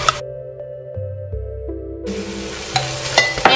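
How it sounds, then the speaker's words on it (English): Tomato paste hits toasted garlic in a hot pan: a quiet, tonal start gives way midway to a loud broadband sizzle, with a few sharp scraping clicks of stirring near the end. "Garlic is nice and toasty already, and I'm going to add 4 ounces of tomato paste."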